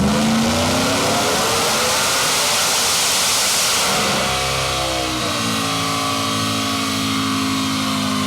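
An 870 WHP four-wheel-drive Ford F150 work truck launches from second gear, its engine roaring loud and close as the revs climb steeply, then shifting and pulling on in a sustained rising drone.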